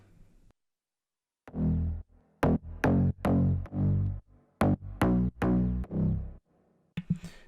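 Deep Imanbek-style synth bass notes play in a bouncy rhythmic pattern, short punchy hits and longer sustained tones alternating, loud and alone after a brief quiet start.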